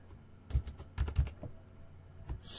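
Several quick keystrokes on a computer keyboard as a web address is entered, two short bursts of clicks close by and alone, with no talking.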